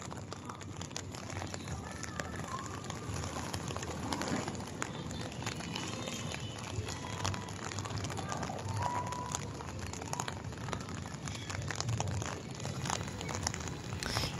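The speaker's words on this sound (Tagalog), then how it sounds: "Kasi mas lumalakas pa yung ulan." Heavy rain falls steadily on a boardwalk in Naga City, Cebu, producing a dense, even hiss with scattered drips and patters. The downpour is close and fairly faint, with no speech over it.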